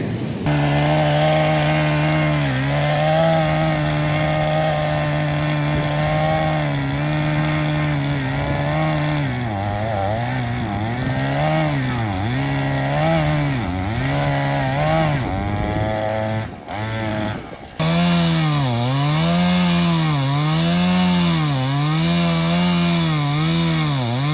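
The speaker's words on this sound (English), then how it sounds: "we're going to need to get a chainsaw going and get to work." A chainsaw cuts into a fallen tree in a cow pasture, its engine droning loudly and steadily with rising and falling revs, then briefly cutting out before roaring back up.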